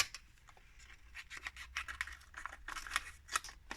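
Scissors cutting a small paper scrap for a folded card, a quick run of close, soft snipping and crisp paper rasps.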